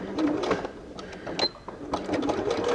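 Sewing machine running a 2.5mm stitch around a fabric hand warmer, a close rapid mechanical chatter in short bursts with brief pauses.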